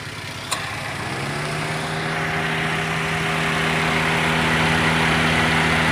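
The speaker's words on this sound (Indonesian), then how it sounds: "lihat extra pan atau motor pan radiator ini sudah hidup kembali dan berfungsi dengan normal kembali" A Toyota Avanza's radiator fan motor starts up with the AC switched on while the engine idles: a steady whirring hum rises after a click and holds loud and even, with no talking.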